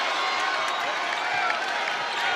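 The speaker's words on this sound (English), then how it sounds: "You hear the students cheering." Students in an arena crowd at a college basketball game between Bryant and Houston cheer in a dense, steady roar of voices, loud and continuous without clear breaks.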